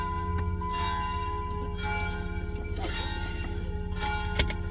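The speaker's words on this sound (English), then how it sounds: "guys hear the bells?" Church bells ring steadily in the distance, a sustained layered tolling that carries on throughout, with faint voices now and then underneath.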